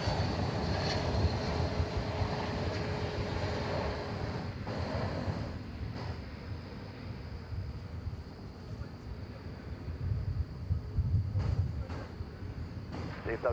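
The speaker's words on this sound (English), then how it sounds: "Here comes American Flight 2356 from Los Angeles." An American Airlines Airbus A321 arriving at Dallas Fort Worth from Los Angeles gives a steady, broad engine roar with wind noise that holds for the whole stretch and swells slightly near the end, heard alone without talk.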